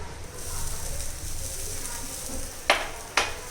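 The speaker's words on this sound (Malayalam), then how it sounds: "നമുക്ക് ഇട്ടേ തേങ്ങ ഒന്ന് റോസ്റ്റ് ചെയ്തെടുക്കാം" Grated coconut roasting in a little ghee in a pan gives a steady soft sizzle, and two sharp clinks of a utensil against the pan come near the end.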